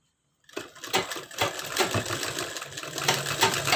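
Sewing machine stitching the shoulder seam of a blouse, starting after a short silence into a fast, steady mechanical clatter of needle strokes, close and continuous.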